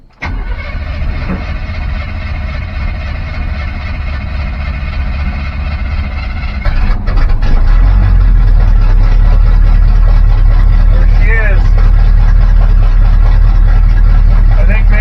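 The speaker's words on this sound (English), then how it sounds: "It wouldn't fire up an idle like this before." A car engine with a freshly overhauled Edelbrock 1406 carburetor cranks and catches, then settles into a loud, steady, deep idle rumble that carries on to the end, close to the listener, with voices talking over it.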